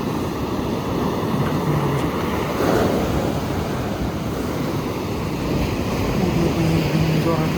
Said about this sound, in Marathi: जोरात लाटा येत होत्या.